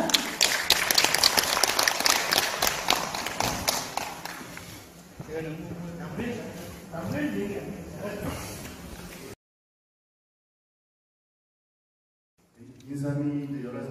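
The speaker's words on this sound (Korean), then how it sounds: "교수님은 따뜻한 박수로 맞이해 주시길 바랍니다" Warm audience applause greets a lecturer at a ginseng industry forum, loud at first then thinning out with scattered claps and shuffling before a silence and a voice starting to speak.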